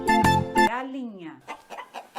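A chicken clucks in short, close bursts that carry a rising and falling squawk. A voice may be imitating the sound, and it is heard alone against otherwise quiet surroundings.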